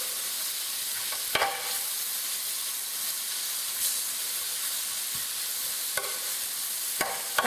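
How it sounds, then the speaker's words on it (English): Sliced onions soften in a hot pan with chicken for butter chicken, giving a steady, close hiss of frying broken by a few sharp spoon knocks and scrapes. "what we're going to do is add our onions. Okay, and what you want to do there is just soften the onions up a bit"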